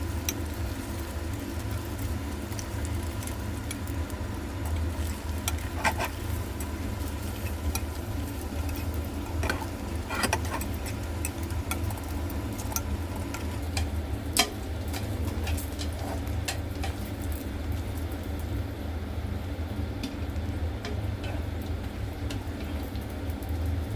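Shrimp paste rolls wrapped in tofu skin half-deep-fry in a pan of oil, giving a steady, fairly quiet crackling sizzle throughout with scattered small pops and a low background hum.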